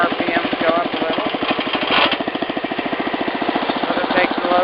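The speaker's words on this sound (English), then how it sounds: "you'll hear the engine RPMs go up a little." A Wheel Horse 875 garden tractor engine runs close by with a rapid, even chugging pulse. It rises slightly as the parking brake disengages the clutch, and someone talks over it at times.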